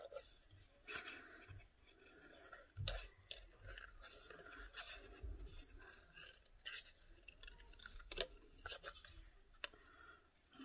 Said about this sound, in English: So then I will just fussy cut this out.